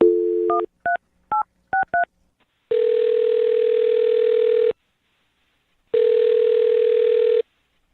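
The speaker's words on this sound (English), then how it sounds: "I'm going to dial her phone number right now." A quick series of touch-tone dialing beeps for a phone call during a radio show, then two long ringback tones separated by a pause, clear and close.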